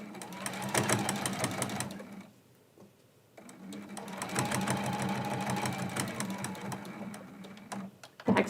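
A sewing machine attaching binding to the front of a quilt, two steady whirring runs split by a brief pause, close and moderately loud with no talking.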